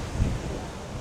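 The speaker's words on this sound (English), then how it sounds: "Oh, it's windy as hell." Strong wind blowing outdoors in the futuristic part of Baku, a brief rough low buffeting gust striking the microphone, loud and close, with no talk.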